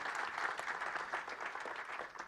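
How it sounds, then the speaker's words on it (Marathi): Steady audience applause fills a hall at a sixtieth-birthday celebration for a ghazal poet, dense continuous clapping honoring crowdfunding contributors, with no voices over it. "त्या सगळ्या कॉन्ट्रीब्युटर्सच्यासाठी आपण एक जोरदार टाळ्या वाजवायत असं मला वाटतं"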